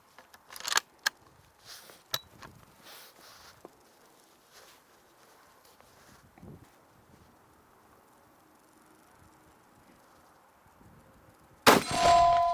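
A cartridge is single-fed into a Soviet M38/M44 bolt-action rifle outdoors, heard as a few quick metallic clicks and clacks early on, then quiet shuffling, and finally a sudden loud burst.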